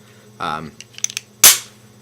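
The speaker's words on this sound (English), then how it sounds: "when I pull this back, all I have to do is lift it up with my left index finger, and I can still lock the pistol into position" A Springfield XD9 handgun slide is drawn back and locked open, a sharp metallic rack and snap close by, preceded by a brief voice and a few small clicks.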